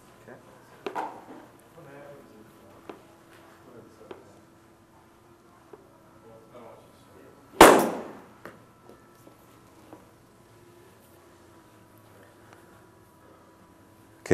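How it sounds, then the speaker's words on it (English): A golfer hits a wedge shot off turf during a wedge fitting, making one sharp, loud strike of club on ball and ground that stands out alone against a quiet background with faint murmurs. "And go ahead and hit that same shot, JT."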